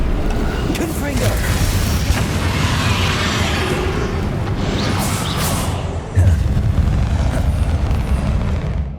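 Confringo spell explosion in the video game Hogwarts Legacy: a whooshing rush ends in a loud rumbling boom, set against a dense, steady wash of battle noise and music.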